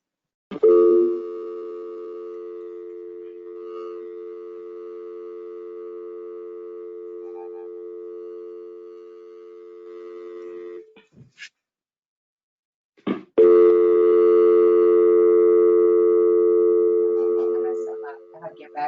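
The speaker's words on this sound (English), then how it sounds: "So, Dave, can you switch over to your audio to the phone call and see and just dial in at that time?" Steady telephone dial tone runs loud for about ten seconds, drops out briefly, then returns with a busy-type tone over a speakerphone line during a town planning board meeting call, alone with no talk.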